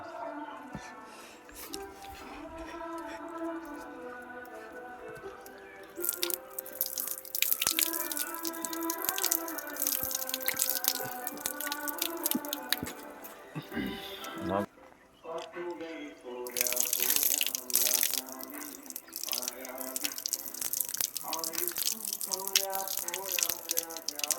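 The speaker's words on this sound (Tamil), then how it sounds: "ஒரு பெரிய அதிசயமான ஒரு நீர் ஊற்று தான் இது" Water flows and drips steadily at a natural spring, a continuous splashing trickle close by that runs throughout with shifts in intensity.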